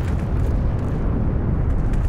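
Bicycle blowing up in the war video game Heroes & Generals, a dense, sustained loud roaring blast with no pause, heard alone.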